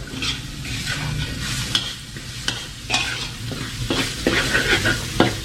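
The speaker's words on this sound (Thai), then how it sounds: "ต้องให้กระเทียมเหลืองหอมก่อนนะครับ" Garlic stir-fries in a hot pan while it turns yellow and fragrant, for Thai shrimp-paste fried rice. A steady close sizzle runs throughout, broken by repeated scraping strokes of a spatula.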